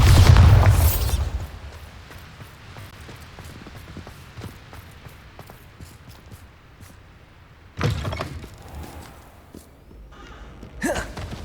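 Bombarda blasting spell going off in Hogwarts Legacy, a loud booming burst at the start that fades into a low rumbling tail, with two further sharp blasts later on.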